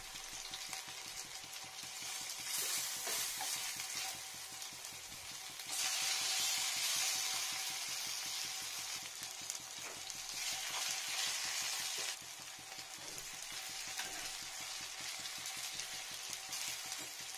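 Paneer frying in a pan for a spinach and paneer dish, giving a steady close sizzle that swells and fades in level over the whole stretch, with no talking.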